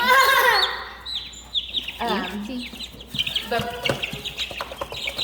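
Brahma chickens on a homestead cluck and chatter at close range in a series of short, uneven calls, with brief pauses between bursts.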